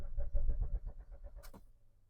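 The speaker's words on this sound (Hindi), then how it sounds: "अभी आपको दिखाते हुए सेल्फ लगा के स्टार्ट होगी या नहीं होगी।" An old Swift Dzire 1-litre petrol car with an empty tank cranks on its self-starter, giving a quick rhythmic chugging whir that runs for about a second and a half, then stops with a click and fades.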